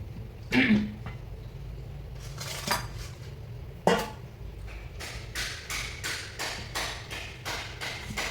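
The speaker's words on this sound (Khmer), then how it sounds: "ឥឡូវយើងធ្វើការហាន់ម្ទេសយើងសិន" A knife slicing chili peppers for a grilled fish dish, quiet scattered taps and thuds on a cutting board with a run of regular chopping strokes toward the end, close and soft.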